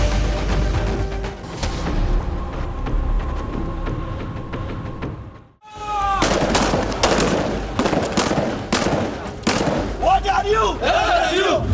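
Real rifles fired by male and female commandos of the Sindh Special Security Unit at an outdoor firing range: loud, close, rapid bursts and single shots cracking in quick succession, with a brief near-silent gap midway.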